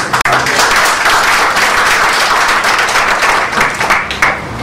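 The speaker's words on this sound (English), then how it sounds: "Maybe a round of applause for the." An audience applauds at a TIE Chandigarh session, with steady, dense clapping that stays loud and even throughout and has no talk over it.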